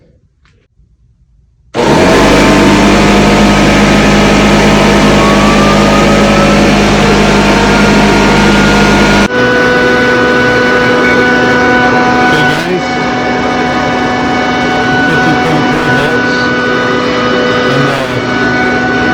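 A dehumidifier and heater plugged into a cheap 48 V PowMr inverter start up after a quiet moment, making a loud, steady roaring hum with tonal whines that shifts in character partway through and keeps running.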